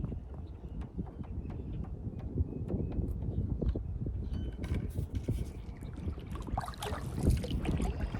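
A NorthStar Trillium carbon canoe is paddled with a Bending Branches Explorer Plus paddle, giving soft, close water swishes and light knocks against a steady wash of wind.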